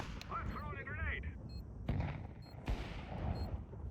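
Gunshots in a Counter-Strike match, several sharp cracks spaced across the stretch, with a voice talking over the opening and game sounds filling the background.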